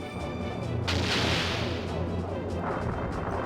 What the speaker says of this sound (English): Let's go ahead, put in that 5-inch cannon.